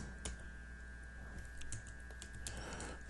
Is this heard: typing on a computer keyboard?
yes